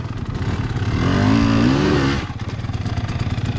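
Dirt bike engine close by, idling in a lumpy putter, then a quick throttle blip that rises and wavers in pitch before dropping back to idle.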